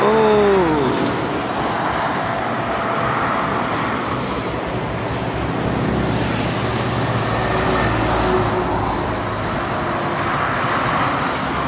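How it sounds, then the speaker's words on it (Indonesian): Loud, continuous rumble of heavy traffic with trucks passing on the Jakarta–Cikampek toll road, a steady roar with no talking. "banyak truk."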